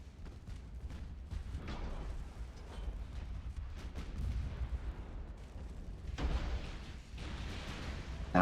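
Heavy battleship gun turrets firing in Ultimate Admiral: Dreadnoughts, 11-inch and 14-inch shells, deep rumbling booms rolling under continuous low naval battle noise, with a sharper blast near the end.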